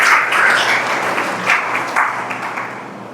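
Church congregation applauds during a worship service, a loud, full wash of clapping that swells early, pulses a little midway and gradually tapers off, with no speech over it.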